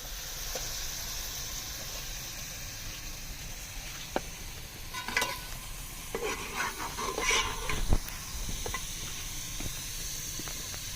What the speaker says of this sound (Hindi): अब इसको हम करेंगे फ्राई तैयार अच्छे से